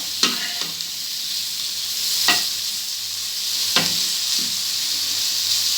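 Cauliflower sautés in a pan for a spiced vegetable dish, a steady bright sizzle close by, punctuated every second or two by a sharp scrape of a spoon stirring, with no voices.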